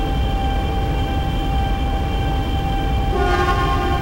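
A 500 Series Shinkansen train in the Densha de Go! Sanyo Shinkansen game rumbles into a platform with a low continuous drone and humming tones, brightening slightly near the end as it draws up close.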